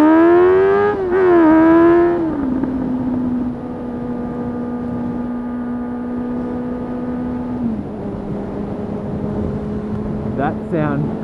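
A motorcycle engine in traffic revs sharply twice, then settles into a steady, loud, close idle drone before one more quick blip near the end.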